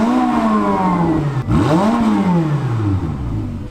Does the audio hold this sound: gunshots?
no